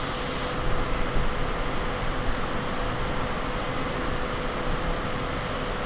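A steady, loud jet-engine roar from an airliner climbing after takeoff in a realistic flight simulator game, continuous and unbroken with no talking.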